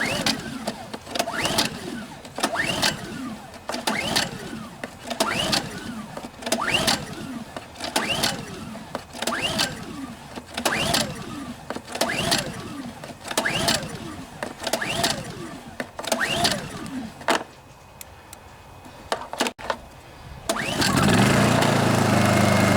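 A Honda EU2000i generator that won't start after storage is pull-started with a long run of rhythmic recoil-cord pulls, each a short rasping burst, before the engine catches and settles into a steady, loud running hum.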